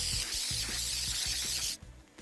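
A continuous hissing spray from an aerosol can of spray adhesive onto foam, steady for about two seconds before cutting off abruptly, with a few soft thumps underneath.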